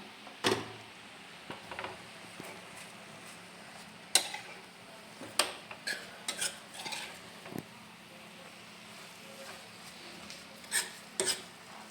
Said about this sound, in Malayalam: നമുക്കിത് തുറന്നിട്ടൊന്ന് ഇളക്കി കൊടുക്കാം